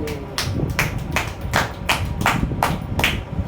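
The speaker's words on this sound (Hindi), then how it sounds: "अपने आप के लिए ही ताली बजाओ" Scattered audience clapping, a few distinct claps landing in a loose, uneven rhythm, fairly close and alone without talk.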